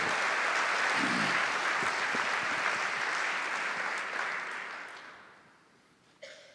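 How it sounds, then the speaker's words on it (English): Sustained applause from an audience at a memorial service, steady and full for several seconds before fading out, with a brief knock or bump at the end. "I think you ought to applaud him again"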